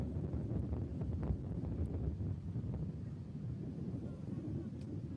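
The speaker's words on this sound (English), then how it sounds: "this wind is relentless" Strong wind at Huntington Beach buffets the microphone in a steady, loud rumble that hardly lets up.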